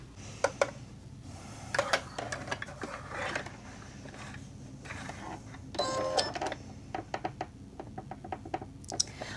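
A sewing machine stitches an AirPods keychain case in short bursts of rapid mechanical clatter separated by pauses, close and moderately loud, with faint background voice sounds between runs.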